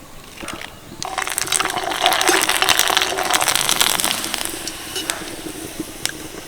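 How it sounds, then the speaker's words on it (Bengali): Papad made with rice starch water frying in hot oil, a loud hissing sizzle that surges after a second and stays busy with crackles and sharp clicks before easing off. "সেকেন্ডের মধ্যেই পাঁপড় ভাজা হয়ে যাচ্ছে"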